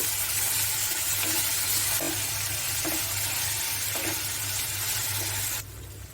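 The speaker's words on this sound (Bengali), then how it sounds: "এটাও তেলের সাথে কিছুক্ষণ ভেজে নেব" Ginger, garlic and garam masala pastes frying in hot oil for a beef curry, a steady loud sizzle with occasional soft stirring knocks, continuous and close, without talk.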